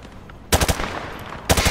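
Hip-fired rifle in Call of Duty Modern Warfare 2 sprays two loud bursts of rapid automatic gunfire, separated by a second of quiet reverberant tail.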